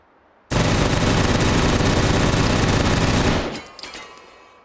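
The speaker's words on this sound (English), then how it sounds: "Introduced in 1984, shooting 9x19 Parabellum, fully automatic. Just burns through ammo." Fully automatic 9x19 Parabellum gun fired with a drum magazine, one loud, very rapid continuous burst lasting about three seconds, then ringing echo fading away.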